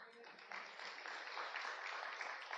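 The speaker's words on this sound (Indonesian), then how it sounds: "Memberikan tepuk tangan kemuliaan buat Tuhan" A church congregation claps for the glory of God, a broad, steady patter of many hands that swells after a brief pause and carries on evenly at moderate volume.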